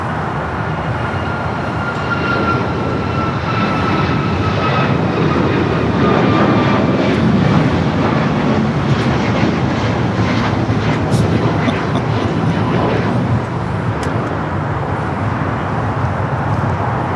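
Airliner bound for Houston taking off from runway 25 right at LAX, a steady, loud engine roar sustained throughout with a faint high whine, and voices talking faintly beneath it.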